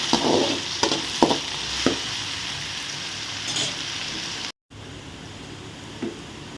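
Potatoes frying in a pan for a potato rice dish, a soft steady sizzle broken by a few sharp scraping stirs of a spoon early on, then a brief dropout before the quiet sizzling carries on alone.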